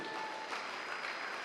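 A church congregation claps together in steady, dense applause, a continuous wash of hand claps with no pauses over a short stretch.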